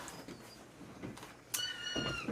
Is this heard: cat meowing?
yes